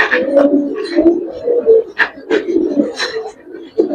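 Giribaz pigeons, a silver and old-breed pair shown for sale, coo in low, repeated bursts close by, while someone talks over them throughout.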